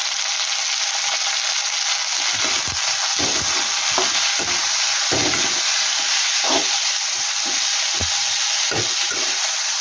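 Ivy gourd (dondakaya) pieces with salt and turmeric frying in a pan, a steady close sizzle and hiss with occasional soft stirring knocks, no voices.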